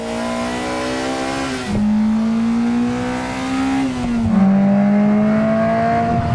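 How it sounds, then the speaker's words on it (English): Honda Integra engines rev in a played-back recording, several cars one after another, each with a rising, sustained exhaust note that climbs and then drops as it shifts, loud and close, with no voices over it. "So you heard the other cars first, and then you hear that last Integra, the last one, the new one, right?"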